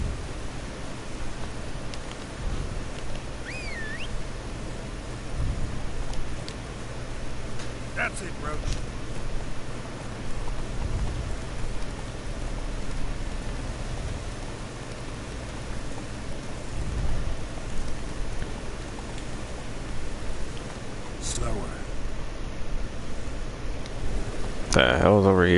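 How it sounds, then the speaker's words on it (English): Steady rain falls in The Witcher 3: Wild Hunt, a soft continuous hiss with occasional low rumbles across the whole stretch, no talk over it. "Looks like rain."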